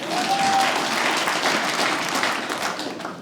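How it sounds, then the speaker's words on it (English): Comedy club audience applauding, a dense, steady wash of clapping that stays loud throughout and tapers slightly at the end, with no talk over it. "Clap if you know what the Gold's Gym is."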